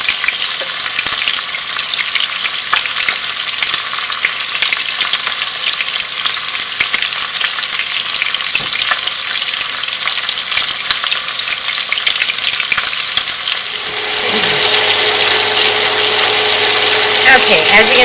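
Carrots and onions frying and browning in a pan, a steady loud sizzle throughout with occasional stirring, shifting tone near the end as the pieces are moved.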